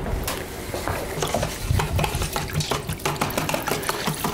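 Water is poured into a pasta sauce for stuffed manicotti and stirred with a small whisk, giving close, busy sloshing and light scraping in a pot throughout.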